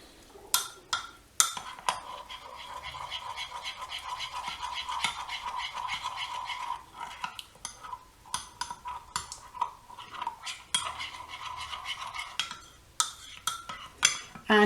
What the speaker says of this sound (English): Give it a nice, keep mixing it in.